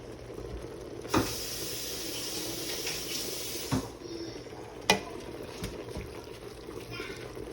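Hamburger meat spaghetti sauce is stirred in a pot over a soft simmering sizzle, with a few distinct knocks and scrapes of the spoon against the pot spaced several seconds apart.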